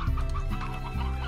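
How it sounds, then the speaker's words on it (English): Chickens in the Slime Rancher video game cluck in quick, close bursts, a couple of short throaty calls over a brief moment. "Good thing I have so many chickens."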